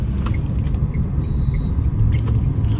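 A Tata Tiago EV electric hatchback pulls away on a highway with a steady low road rumble and faint tire noise, and a thin high whine comes through in the middle.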